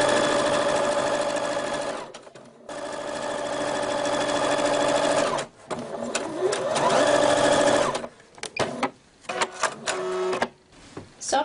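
A sewing machine stitches an organza seam in quick, even bursts of rapid mechanical whirring, with short pauses and then choppier stop-start runs near the end, close by and alone.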